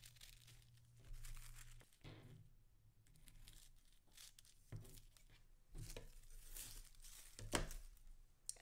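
Scissors cut triangle points into paper for Christmas crackers with quiet crisp snips and papery rustles, spaced irregularly in a quiet room.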